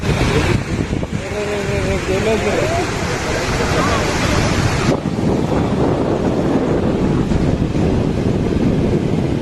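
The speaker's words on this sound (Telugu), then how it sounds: "రాత్రికి కురిసిన వర్షానికి వాగు ఉధృత ప్రవేశించింది" Floodwater from a stream swollen by overnight rain rushes steadily and loudly throughout, a dense continuous roar with brief voices heard faintly over it near the start.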